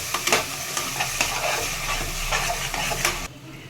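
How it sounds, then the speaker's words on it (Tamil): Tomato stirred into frying onions for a veg kurma: loud close sizzling and hissing throughout, with repeated scraping and clinking of the spoon in the pan, then the sound drops off near the end, no voices. "நம்ம வெங்காயத்தை எப்படி மிக்ஸ் பண்ணுமோ அதே மாதிரி தக்காளியும் இப்போ மிக்ஸ் பண்ண போகிறோம்"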